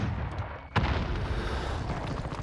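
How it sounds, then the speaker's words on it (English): A grenade detonates in Call of Duty Modern Warfare, one sharp, heavy blast cutting through a dense background of battle noise and distant gunfire, then fading into the continuing din. "Hopefully that nade connects."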